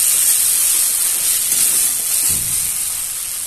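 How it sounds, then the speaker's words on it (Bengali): Fried cauliflower and potato going into a fish curry gravy in a Bengali home kitchen, giving a loud, steady steamy hiss and sizzle that holds close and unbroken throughout, with no voices. "এর মধ্যে আমি দিয়ে দিচ্ছি ফুলকপি আর আলু, যেটা ভেজে রেখেছি সেটা আমি দিয়ে দিচ্ছি"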